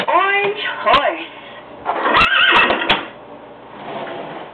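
A horse neighing, a short whinny near the start, followed by further bursts of sound, with a child and an adult talking around it.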